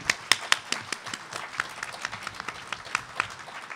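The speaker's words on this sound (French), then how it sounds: "Vous pouvez applaudir" An audience claps for a performance at a cultural gathering, a steady patter of hand claps with a few sharp, close slaps standing out, sustained evenly throughout.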